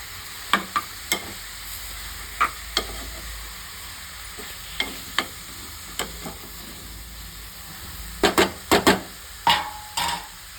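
A spatula scrapes and knocks repeatedly as broad bean pieces, with chilli powder and curd, are stirred in a pan. A soft, continuous sizzle runs underneath, and the clatter grows busier toward the end.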